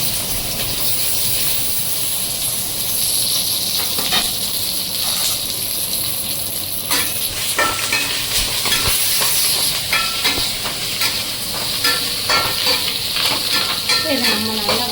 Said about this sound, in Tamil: இதை நம்ம நல்லா வதக்கி விட்டுக்கலாம்.